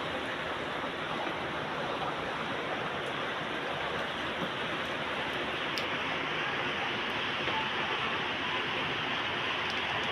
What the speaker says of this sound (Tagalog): grabe talaga tong ulan